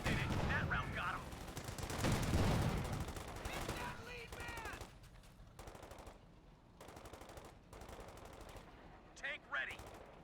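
Gunfire in the Company of Heroes war game, Ardennes Assault, with dense machine-gun bursts and rapid shots, loud and near, thinning into spaced cracks toward the end.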